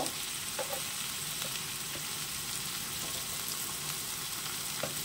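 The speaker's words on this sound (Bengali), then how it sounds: "এরপরে দিয়ে দেবো একটা বড় সাইজের টমেটো আমি কুচি করে রেখেছি, দিয়ে দিলাম টমেটো।" Chopped large tomato sizzling in a hot pan, a dense steady frying hiss with a few faint clicks and stirs, close by and alone without talk.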